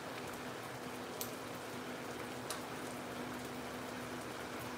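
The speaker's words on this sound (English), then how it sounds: "It's really fucking raining." Heavy rain falling steadily outdoors near a stuck RV, a dense continuous hiss and patter close to the listener with occasional sharper drops and no talk.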